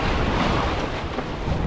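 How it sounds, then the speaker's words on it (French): Waves wash around a small sailing dinghy during a race, a dense, loud rush of water and surf mixed with heavy wind buffeting the microphone, continuous with no pauses. "Ah, il y a des vagues ici."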